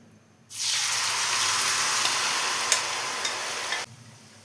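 Rice flour batter hits hot coconut oil in a pan over full flame, bursting into a loud, steady sizzle that holds for about three seconds with a few sharp crackles, then cuts off abruptly.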